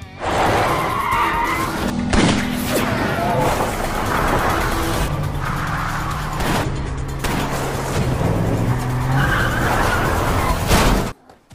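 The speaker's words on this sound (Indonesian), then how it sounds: "Tetapi setelah pengejaran yang lama, Paul akhirnya malah berhasil membuat mobil mereka tersingkir" Film car chase with loud tire skids and squeals over roaring engines, dense and continuous action-movie sound, with intermittent crashes and impacts throughout before cutting off abruptly at the end.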